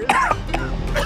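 A person coughs twice in quick succession while sick with an illness, the dry, harsh bursts close and loud, followed by a fainter throat-clearing cough near the end.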